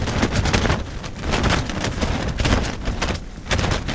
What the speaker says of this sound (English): The wind, as you can probably hear, has picked up quite a bit